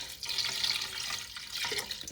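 Cooking water from cow foot is poured over chicken feet for a traditional Jamaican recipe, a steady splashing, gurgling stream lasting about two seconds, close and fairly quiet.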